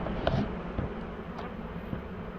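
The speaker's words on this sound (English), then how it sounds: "Good sounds, good old buzzing." Honeybees buzz at a farm hive during an inspection, making a steady, fairly quiet drone that runs the whole time with a few brief louder swells nearby.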